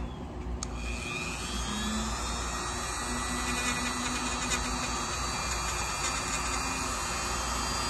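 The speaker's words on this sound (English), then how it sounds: "So just quickly sand these up." Continuous whirring of a small rotary sanding tool smoothing the rough edges of lightsaber PCBs, steady and moderately quiet with a faint high whine throughout.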